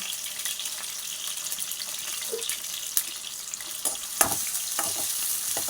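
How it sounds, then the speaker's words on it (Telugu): Large sliced onions dropped into hot oil, giving a steady soft sizzle close by with a few sharp crackles and pops near the end. "ఇప్పుడు నూనె కాగిపోయింది కదా, మనం ఉల్లిగడ్డల ముక్కలు వేసుకుందాం."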